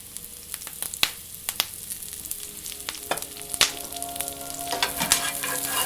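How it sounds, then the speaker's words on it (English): Kale tossed into a hot pan with browned garlic hisses in a lively sizzle, broken by sharp clinks and scrapes of stirring. "now we're going to add our kale."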